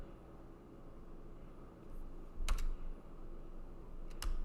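A computer keyboard clicks faintly in a few short bursts of typing, with a couple of sharper key taps standing out against quiet room tone.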